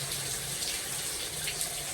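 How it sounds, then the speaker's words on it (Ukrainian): Water poured down from a balcony above splashes in a dense, steady hiss and patter, like a heavy shower hitting the ground nearby, continuous for a couple of seconds. "З якогось балкону вирішили злити воду."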